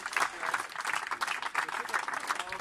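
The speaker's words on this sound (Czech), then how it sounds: "Takže obrovský potlesk a první místo Blažek, Vojta a jeho družina." Audience applause at a volleyball club awards gathering: steady, dense clapping from a moderate crowd, fairly close, holding evenly throughout with a few voices mixed in.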